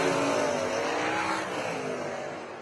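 Race cars roar around a dirt oval, a loud continuous engine drone with shifting pitch as the pack passes close, fading slightly toward the end.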